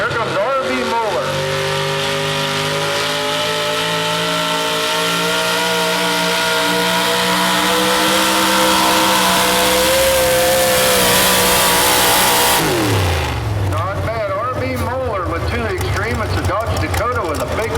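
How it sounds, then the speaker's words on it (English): Pulling truck with a big block Chevy and tunnel ram at a truck and tractor pull, its engine revving loud and sustained with rising pitch, then dropping off sharply, while an announcer talks over it throughout. "Dakota with a big block Chevy and a big old tunnel ram"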